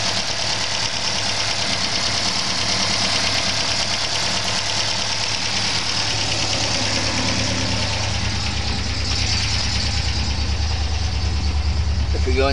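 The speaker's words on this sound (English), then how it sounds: "You can see the engine going pretty well now." A restored car engine idles steadily and evenly, close and loud, with a continuous low rumble throughout.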